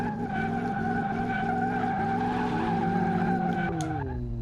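Ford GT40 in Car Mechanic Simulator, engine revving up under the throttle with a steady rising tone, close and continuous, with no talking over it.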